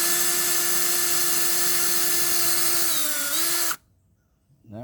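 A power drill whines steadily as it bores through a thin fiberglass layer into solid fiberglass on a boat, its pitch dipping slightly before it abruptly stops, loud and close.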